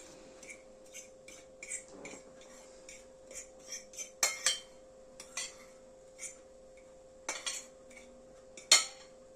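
Light clinks and scrapes of a utensil against a bowl while seasoned, lightly coated Atlantic cod pieces are mixed by hand, in irregular soft taps with a few sharper knocks, close and fairly quiet, with no talking.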